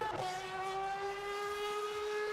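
The Aston Martin Valkyrie race car in a racing video game holds a steady, high-pitched engine whine with strong harmonic tones, droning continuously at close range.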